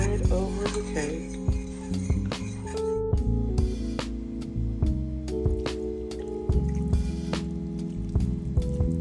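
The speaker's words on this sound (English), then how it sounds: "Let's mix this very well so that we can pour it over the cake." Mixed strawberry liquid poured over a cake, with wet drips and squishy splashes continuing steadily throughout, close and fairly loud over soft background music.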